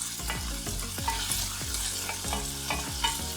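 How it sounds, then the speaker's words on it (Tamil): Chopped onion and green chili sautéing in hot oil in a pan for ridge gourd gravy, a steady sizzle with repeated scraping stirs of a spatula at a regular pace, close and alone. "வெங்காயம் பார்த்திங்கன்னா லைட் கோல்டன் ப்ரௌன் கலர் வர அளவுக்கு நம்ம வதக்கிக்க போகிறோம்"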